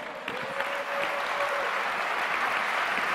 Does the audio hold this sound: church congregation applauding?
yes